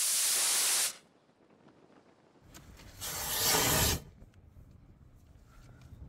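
A small PVC rocket motor with a number 20 nozzle test firing, heard as a loud hissing roar of about a second, quiet, then a second, longer roaring burst before fading to faint background noise.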